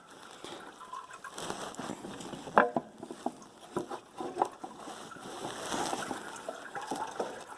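Engine oil drains from a 2014 Chevy Cruze Diesel into a pan during an oil change, a close, fairly faint, irregular patter and splashing of liquid that rises and falls.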